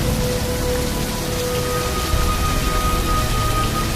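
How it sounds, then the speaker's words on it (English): Steady rain pours down in a dense, even hiss with pattering drops on surfaces, close and continuous without a break. "Come on out of the rain now."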